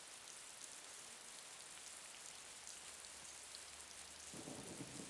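Heavy rain pours steadily in a video game, a constant hiss with a low thunder rumble swelling near the end. The sound is faint and stays at an even level, with no voices.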